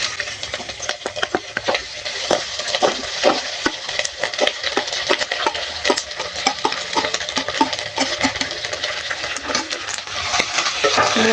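Meat pieces and corn kernels stirred in a pan, with steady frying crackle under a dense series of sharp utensil scrapes and clicks against the pan, close and fairly loud throughout, no talking.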